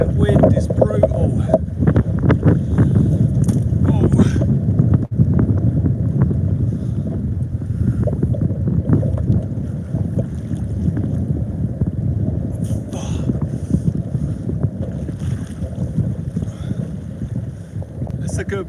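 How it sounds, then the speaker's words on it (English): Strong wind buffets a boat at sea while fishing for conger eel, a loud continuous rumble and roar of wind noise, with people talking under it. "Oh, that wind is brutal."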